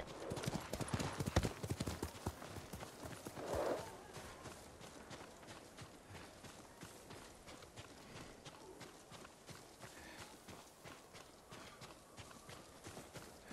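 Horse hooves clip-clop steadily in Ghost of Tsushima, a fast rhythmic gallop with a brief louder stretch early on, then continuing quieter and even.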